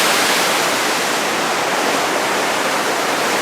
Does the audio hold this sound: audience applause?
no